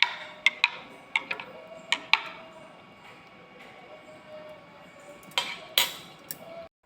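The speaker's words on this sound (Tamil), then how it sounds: "பிறகு கலக்கவும்." A spoon stirs homemade beetroot and carrot juice with lemon juice in a glass, making a series of sharp clinks and taps, irregular and close, with quieter stretches between them.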